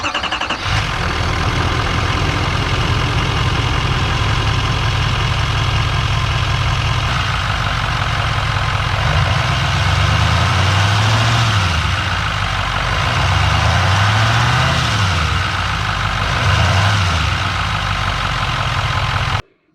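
A Chevrolet Silverado with the Duramax L5P diesel idles steadily, a loud close rumble with a deep low drone and faint mechanical clatter that holds constant throughout and cuts off at the very end.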